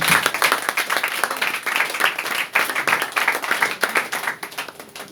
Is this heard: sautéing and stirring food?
no